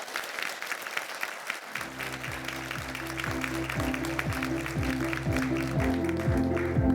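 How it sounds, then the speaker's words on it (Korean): Audience applause at a 2025 education plan briefing held by a regional education office: steady clapping from a large crowd in a hall, building and continuing over a low rhythmic musical backing, with no speech heard. "다시 한번 큰 박수 부탁드리겠습니다"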